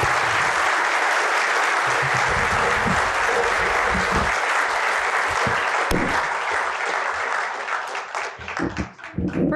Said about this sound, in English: Please join me in giving our guests a round of applause.